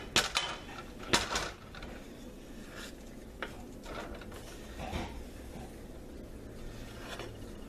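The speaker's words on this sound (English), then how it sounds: "I'm going to go ahead and put that into the saucepan" Ingredients tipped into a saucepan for a peanut butter snack mix, with a few sharp metallic clinks and knocks early on, then softer occasional taps over a faint room background.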